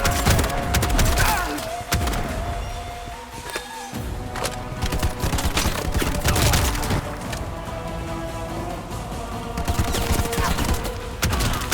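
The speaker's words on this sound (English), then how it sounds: "the shotgun's a lot more effective on him" Shotgun blasts in the action shooter Bright Memory Infinite, repeated heavy booms and impacts amid dense combat noise, splintering debris and a musical score, with someone talking over parts of it.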